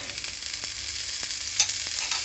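Mutton iguru masala fries on a low flame in a pan, giving a steady close sizzle with a few soft stirring scrapes and no voices.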